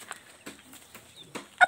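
A few short, soft chicken clucks scattered across a quiet moment, ending with a brief sharper squawk close by.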